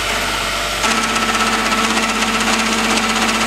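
A gear cutter cuts a helical gear blank held by a screw on the spindle, its motor humming and then settling into a steady, loud whirring grind after the cut engages.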